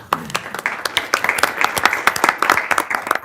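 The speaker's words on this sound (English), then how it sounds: "That was worth the applause." Short burst of applause at a city council meeting after a scout troop's presentation, with a handful of people clapping in irregular rhythm and some voices mixed in.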